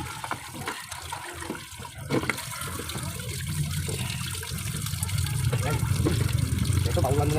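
Water runs steadily into a cooking pot for boiled pork soup, a continuous rushing splash that builds and deepens as the pot fills, with clatter of handling early on.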